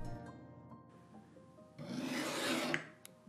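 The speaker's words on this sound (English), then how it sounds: "passed to shaping the edge of the knife with a fine file" A fine file shapes the edge of a kitchen knife made from LEGO, producing close, gritty rasping strokes that build into a louder sustained scrape midway before trailing off, with no voices.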